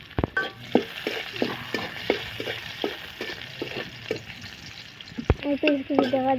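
Spices and egg curry sautéing in oil in a village-style kitchen, sizzling under a regular series of spatula taps and scrapes, with sharper clanks near the end.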